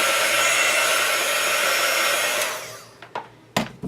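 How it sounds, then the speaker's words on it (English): A heat tool blows chalk dust off a chalkboard with a loud, steady roaring whoosh that winds down after about two and a half seconds, followed by a few sharp clicks and taps. "I'm just going to kind of blow this off here with my heater quick."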